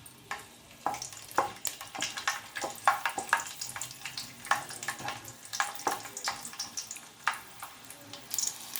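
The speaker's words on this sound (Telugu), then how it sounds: "ఆయిల్ వేసిన తర్వాత చూడండి వెల్లుల్లి రెబ్బల్ని వేస్తున్నాం తర్వాత కొంచెం మెంతుల్ని వేస్తున్నా" Garlic cloves and fenugreek seeds frying in hot oil for a fish curry: a soft continuous sizzle broken by frequent sharp crackles and pops, close and fairly quiet.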